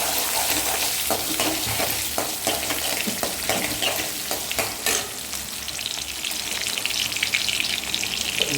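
Onions fry in a pan while cooking, a loud continuous sizzle with crackles and stirring scrapes, close and alone without talk.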